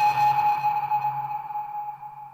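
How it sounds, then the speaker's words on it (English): A submarine sonar ping sound effect: a single clear, high, pure tone rings out with a long, gradually fading tail and a faint low hum beneath it. "So I just looked for Sonar sound effects"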